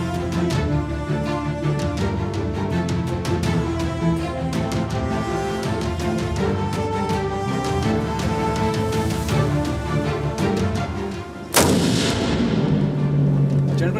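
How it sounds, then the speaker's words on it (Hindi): Music plays until an Indian defence artillery gun fires a single round, a sudden loud blast near the end followed by a ringing, decaying roar. "we fired one round and we got all the parameters displayed on the screen"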